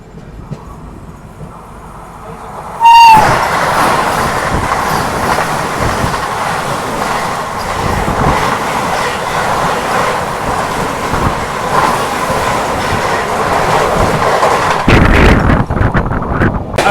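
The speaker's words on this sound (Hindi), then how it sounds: "ये आ रही है Ayodhya cantt Anand Vihar terminal Vande Bharat express." A Humsafar Express on a New Delhi–Prayagraj run passes a Vande Bharat Express at about 130, with a sudden loud rush of rail noise, steady clatter and wind buffeting that lasts throughout, then a brief sharp surge near the end.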